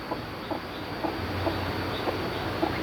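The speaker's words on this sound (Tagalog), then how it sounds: "ito naman ang aking mga chickens" Backyard chickens cluck in short, evenly spaced calls over a constant low background hum, with a newly hatched chick among them.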